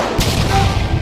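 A single sharp gunshot hit in a film scene, a sudden loud blast with a booming crash that spreads across the whole range, then a short rumbling tail, with no one speaking.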